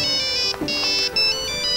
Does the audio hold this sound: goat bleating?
no